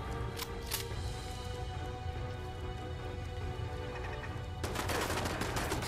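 Bursts of gunfire in Fallout 4, several quick cracks early and a dense loud volley near the end over a steady game soundscape, close and sharp.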